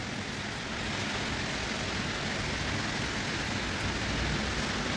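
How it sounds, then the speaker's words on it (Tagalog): Heavy rain in Kuwait pours in a dense, constant hiss, loud and unbroken from start to finish. "Lakas ng ulan."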